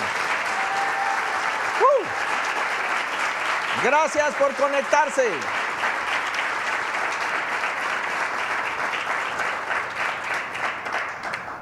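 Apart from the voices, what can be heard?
church congregation applause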